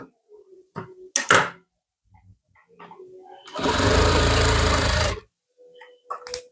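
A sewing machine stitches the corner of a blouse in one loud, steady burst of rapid needle chatter lasting about a second and a half, framed by quieter handling clicks and cloth rustle before and after.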